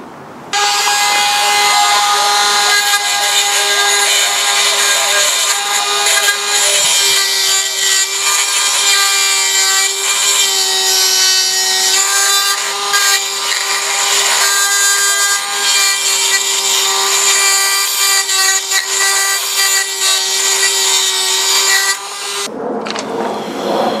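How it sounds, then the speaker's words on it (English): A loud, steady high-pitched grinding whine from a power grinder widening the inside of a metal pencil sharpener, running continuously for a long stretch, then cutting off and shifting near the end. "See, I've got to grind all this wide open now."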